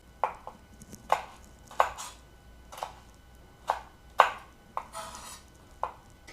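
A knife chops vegetables into pieces for a Niçoise salad, about ten crisp, close chops landing in an uneven rhythm, with no talking.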